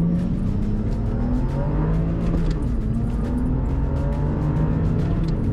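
An ARRMA Infraction 8S RC car and an Audi R8 V10 launch in a drag race, loud engine and motor tones climbing steadily in pitch over constant road and wind noise.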